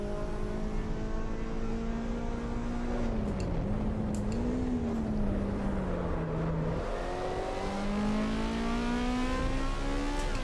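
Race car engine in the sim racing game Assetto Corsa Evo, a steady loud drone with pitch rising and dipping as the car accelerates and shifts, heard alone and continuous throughout.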